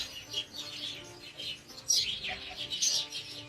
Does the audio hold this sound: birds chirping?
yes